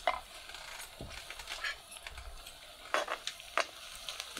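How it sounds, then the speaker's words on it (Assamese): Ginger-garlic paste frying in a pan on low heat gives a soft, quiet sizzle with scattered spatters and a few sharp clicks of a spoon stirring against the pan. "সেইবাবে এতিয়া আমি ইয়াতে আদা নহৰুৰ ভজাখিনি দি দিছোঁ"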